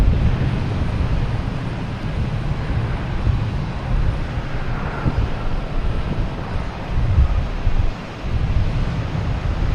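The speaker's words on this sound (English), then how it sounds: "Sun Country coming in from Minneapolis." A Sun Country Boeing 737-800 airliner arriving from Minneapolis at Boston Logan gives off a steady, loud jet rumble, mixed with heavy wind buffeting on an outdoor microphone throughout.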